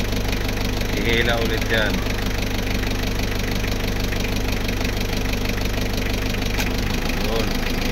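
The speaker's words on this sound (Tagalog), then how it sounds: "Kumana yung compressor yan." A Mitsubishi L300 engine runs at a steady idle with its air-conditioning compressor engaged, a close, continuous mechanical drone while someone talks over it.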